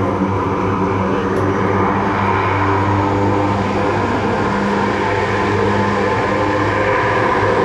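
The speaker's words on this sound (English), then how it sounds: "they literally can back the aircraft up by using the reverse pitch or reverse angle of the blades" Lockheed C-130J-30 Hercules turboprop at an air show, engines roaring steadily and loudly with propellers in reverse pitch to back the aircraft up; a constant dense drone with no break and no voices.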